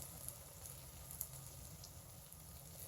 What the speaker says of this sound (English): I'm going to let these cook, and I've got my burner, or my propane burner, about medium heat.